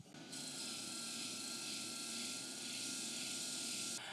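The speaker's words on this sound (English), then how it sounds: "on my sander, I'm just going to create a 45-degree chamfer here" A power sander grinds a 45-degree chamfer into a piece of scrap wood, giving a loud, steady whirring roar that starts abruptly and runs unbroken for several seconds before cutting off.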